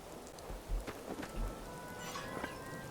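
Rain in the video game Morrowind on Vvardenfell, a quiet, even wash of falling drops with a few soft low rumbles underneath and no speech.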